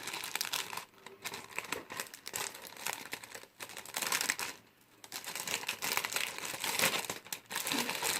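Plastic sheeting crinkles and crumples continuously as an item is folded up, a close, busy rustle with brief pauses, no talking.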